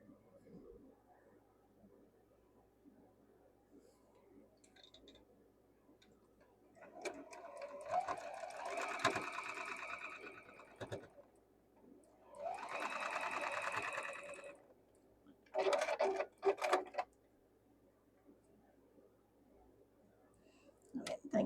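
Domestic sewing machine stitching a quilt block, with a soft whirring run of a couple of seconds, a pause, a second longer run, then a short burst, all at close range over a quiet room.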